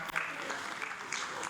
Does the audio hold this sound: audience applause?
yes